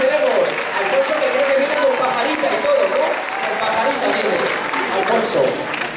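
Audience applause at a golden wedding anniversary celebration held on Valentine's Day, a sustained crowd clapping that runs through the whole stretch, loud and close, with an announcer's voice speaking over it.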